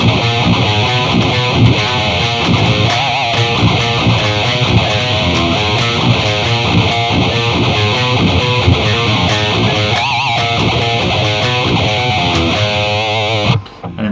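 A live recording of a song plays loud and dense, with a heavily distorted electric guitar riff over pounding drums and bass, continuous and saturated before cutting off suddenly.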